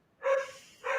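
Two short, bright dog barks, one just after the start and another near the end, each a clear yelp-like burst standing alone against a quiet background.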